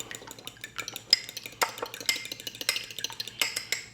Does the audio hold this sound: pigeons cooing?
no